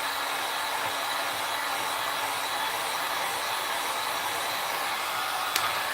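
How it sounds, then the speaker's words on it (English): A steady, loud blast of hot air from a heat tool, a constant whooshing hiss with no breaks and a brief faint click near the end. "you don't necessarily have to have a heavy duty heat tool like this"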